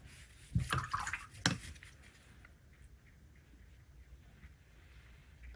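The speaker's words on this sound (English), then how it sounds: "Just dropped in some water." Water dropped by brush onto wet watercolour paper: two soft, close dripping splashes in quick succession, then a quiet, faintly hissing room.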